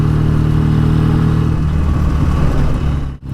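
A BSA A10 Super Rocket twin-cylinder motorcycle engine runs loud and close while riding, a steady low throb with a brief dip near the end.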